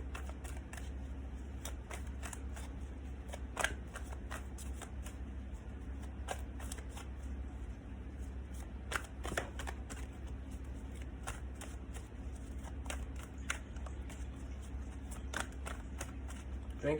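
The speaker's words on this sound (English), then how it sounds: "I just shuffled these cards" Tarot cards riffled and shuffled by hand in repeated quick bursts of crisp flicking clicks, close and fairly quiet over a low steady hum.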